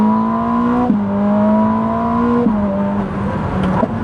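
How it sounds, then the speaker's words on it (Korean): A Ferrari 849 Testarossa engine hums at a steady pitch, then drops sharply at each rapid downshift, three quick gear changes in a row, loud and close. "와, 다운시프팅은 또 왜 이렇게 빠른 거야? 다음 기어를 낚아채듯이 집어넣습니다."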